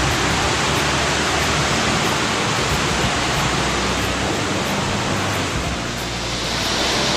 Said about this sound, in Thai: บรรยากาศชั้น2อันนี้ก็เป็นน้ำตกชั้นที่2นะครับ